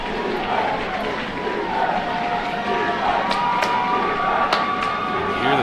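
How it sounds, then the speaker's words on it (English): Home crowd and sideline chanting defense at a college football game between West Liberty and Glenville State at West Family Stadium, a broad steady roar of voices with sharp cheers and whistles rising over it. "Hear the Topper crowd and sideline chanting defense."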